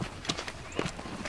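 A deep sorrel mare's hooves clip-clop at a rodeo, several distinct hoof strikes at a loose walking rhythm over a noisy arena background.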